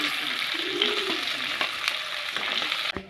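Paneer cubes fry in a pan with a close, even sizzle, broken by a few scraping knocks of a spatula and a sharper clatter near the end.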